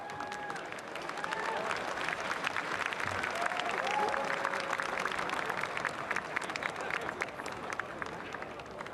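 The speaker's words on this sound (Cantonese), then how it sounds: "請以熱烈嘅掌聲歡迎神奇小子傅家俊。" A hall crowd at the 2007 Euro-Asia Snooker Master Challenge exhibition in Hong Kong applauds warmly as Marco Fu is welcomed, a sustained wash of many hands clapping evenly for several seconds.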